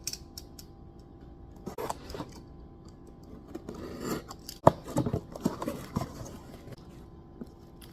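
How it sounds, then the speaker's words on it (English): A knife slicing and scraping through packaging to open a pre-greased boat trailer hub part, close-up with scattered crinkles, snips and rustling handling noises, no talking. "let me get a knife and open this up"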